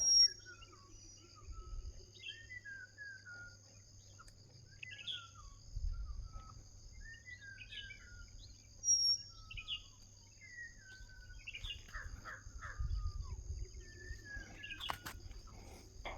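Birds chirping at dawn in hilly countryside, scattered faint distant calls and short whistles over a constant insect drone and low background rumble.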